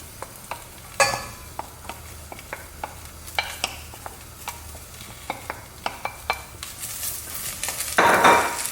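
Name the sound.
vegetables added to hot ghee and stirred in a pan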